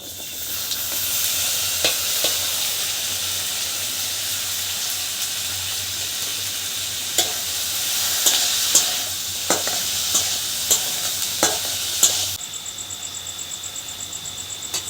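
Onion, green chili and tomato frying in oil in a wok, a loud continuous sizzle with sharp scraping stirs and clinks near the end before the hiss settles.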